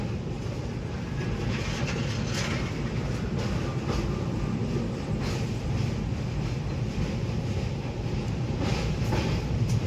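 The Chennai to Howrah superfast Mail train runs along the rails at night, a loud, continuous low rumble with faint rhythmic clatter heard from inside.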